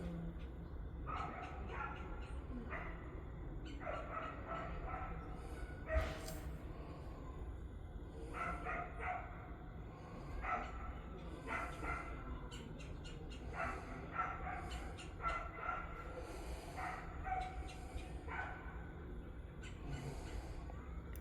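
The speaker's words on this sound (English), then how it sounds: "Somebody's dog ain't happy" A dog barks repeatedly in the distance in short, irregular bursts that continue throughout, faint over a low background hum.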